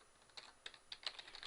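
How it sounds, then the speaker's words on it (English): Quiet, close typing on a computer keyboard, irregular clusters of soft key clicks spaced unevenly over a second and a half, with no talk. "that's why I'm taking my time typing this"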